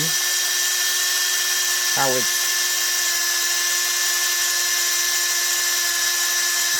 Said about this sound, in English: I take my little hand drill here, put a socket on it from 10 to 13 millimeter